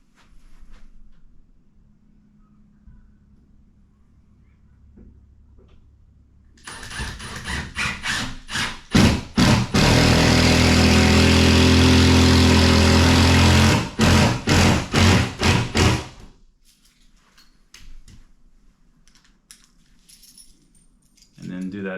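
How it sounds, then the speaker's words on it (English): A power drill drives a screw into a wall while a TV mount is installed, whirring loudly for several seconds with stuttering bursts as the trigger is pulsed, then stopping. "you can drive another screw in the wall"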